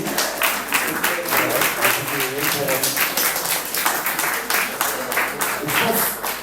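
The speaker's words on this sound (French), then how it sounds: "nous ne pouvons pas simplement applaudir comme ça" Audience in a church applauding, a sustained round of many hands clapping with a rhythmic, slightly uneven pattern, fairly loud and near, with speech mixed in beneath it.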